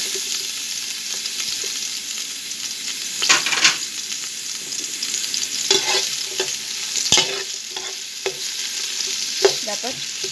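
Chicken majboz ingredients, starting with onion, sizzle and spatter in a preheated cooking pot, a steady frying hiss with bursts of crackling and stirring scrapes, close and continuous.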